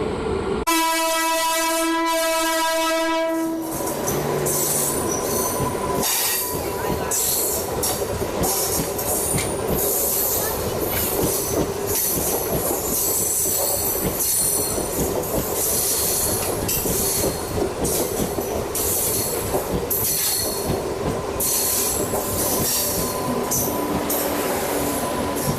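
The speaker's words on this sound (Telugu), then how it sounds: "ఇప్పుడు ట్రైన్ వచ్చింది కాబట్టి మన ట్రైన్ అయితే బయలుదేరిపోతుంది." A train on the adjacent track near Jaisamand Road, on the Chittorgarh to Asarva route, opens with a long horn blast, then rolls past loudly and close with rhythmic wheel clatter, rumble and squeal, and no voices.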